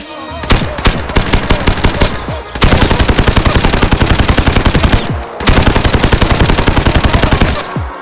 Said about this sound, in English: This mod ports nearly all ballistic weapon sounds from Modern Warfare 2019.